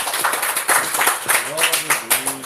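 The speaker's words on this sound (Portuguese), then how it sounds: "As palmas que exaltam o Rei Jesus." Church congregation clapping in praise during a service, rhythmic claps in a steady beat mixed with voices speaking or singing over them.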